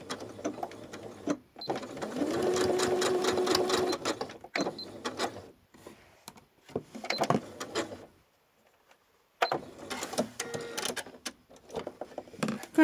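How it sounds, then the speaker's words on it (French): A sewing machine stitches bias binding onto a fabric evening clutch in several close bursts of rapid mechanical whirring, separated by pauses and a quiet stretch near the end. "On va venir coudre"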